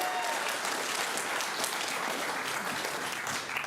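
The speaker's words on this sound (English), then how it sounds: "Give yourselves a round of applause." A crowd applauds itself after a Charity Bowl win, a continuous, even clatter of many hands clapping at a fairly loud level throughout.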